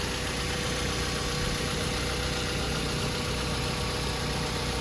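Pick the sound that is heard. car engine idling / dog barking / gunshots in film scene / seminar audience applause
car engine idling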